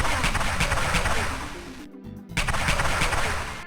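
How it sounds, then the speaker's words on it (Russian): Modernized MP5 submachine gun firing in the 1998 video game The Varginha Incident: dense, sustained bursts of loud gunfire with a short silent gap before the shooting resumes. "Есть вот такой вот модернизированный МП5, имеющий два режима стрельбы"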